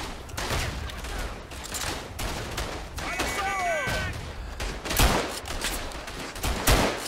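Rifle fire in the WWI shooter Verdun, with Senegalese Tirailleurs in combat: scattered loud gunshots cracking across a busy battlefield, with distant fusillades and whistling sounds mixed in.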